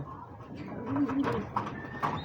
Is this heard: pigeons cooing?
yes